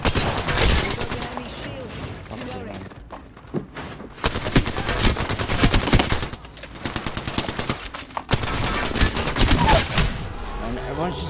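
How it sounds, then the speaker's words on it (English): Apex Legends gunfire rattles in sustained bursts of rapid automatic shots, loud and close, with brief pauses between volleys and talk mixed in. "The enemies are shooting at me."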